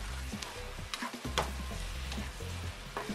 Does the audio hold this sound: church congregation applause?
no